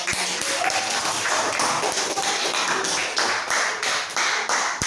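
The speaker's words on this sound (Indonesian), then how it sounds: "Kita kasih aplaus untuk kelompok putri" A sixth-grade classroom applauds a girls' group during an Islamic jurisprudence lesson on halal food: many hands clapping steadily and densely for the whole stretch, close and fairly loud, with no talk over it.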